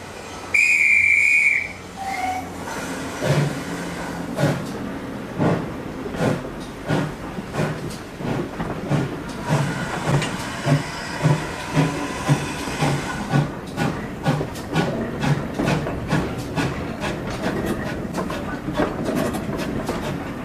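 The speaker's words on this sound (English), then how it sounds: "we catch a glimpse of a mainline train passing us by" A mainline train passes on the South Devon line near Buckfastleigh, its whistle sounding briefly at the start before a steady run of rhythmic wheel clatter over rail joints, fairly loud and alone.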